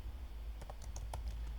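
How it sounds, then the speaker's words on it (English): Quick irregular keystrokes on a computer keyboard over a low steady hum, a short close-up burst of typing lasting about a second. "let me type it in the comment"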